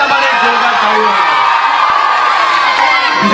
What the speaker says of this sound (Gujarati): તમારા પોતા માટે એક જોરદાર તાળીઓ